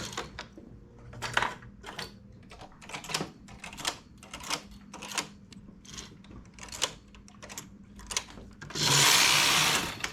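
A domestic knitting machine carriage is pushed back and forth across rows to make a neck scarf. It gives a series of rhythmic, close clacking and whirring sweeps, each about half a second long, followed by a louder sustained rasp at the end.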